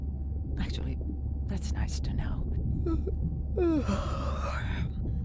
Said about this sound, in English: Was that a yawn?